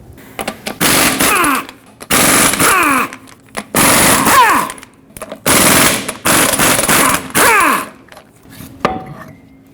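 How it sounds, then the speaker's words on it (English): An impact wrench removes the eight wheel lug nuts on a 2011-2016 Ford F-350, loud rattling hammering bursts of about a second each, repeated roughly seven times with short gaps between. "you can use a 21mm socket and remove all 8 lug nuts that hold the wheel on"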